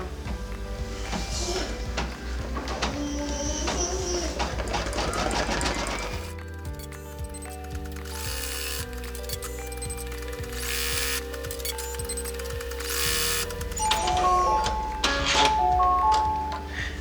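An embroidery machine runs tack-down stitching on fabric for a gift bag, with rapid mechanical ticking and whirring. Its tone shifts partway through as the stitching changes.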